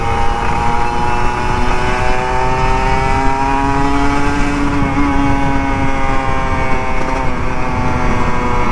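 A Kawasaki Ninja RR 150, an older two-stroke model, is ridden on a Jakarta street, its close, loud engine whine holding steady and then climbing in pitch as it revs.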